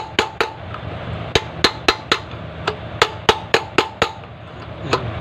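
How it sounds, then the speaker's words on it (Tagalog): Metal-on-metal hammer blows knocking out a wheel bearing on a Kawasaki CT125 motorcycle, a dozen or so sharp, ringing strikes in an uneven rhythm, close and loud over a low background hum. "habang pinupukpok natin dito"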